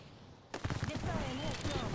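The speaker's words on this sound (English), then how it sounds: "Spotted, taking Gravity cannon fire." Sci-fi gravity cannon fire slams into a ship during a space combat video game, a sudden dense burst of rapid impacts and crackling blasts that keeps going, with warbling electronic tones and voices talking over it.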